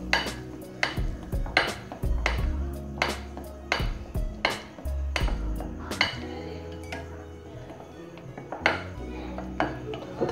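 Spoon or whisk stirring biscuit cake batter with milk in a bowl, repeated clinking and scraping strokes against the bowl in a steady rhythm, close and fairly loud, with no talking.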